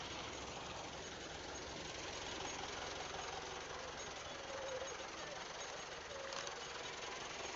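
A bus engine runs steadily at idle before departure, a constant, fairly loud low rumble that holds for the whole stretch with faint background murmur.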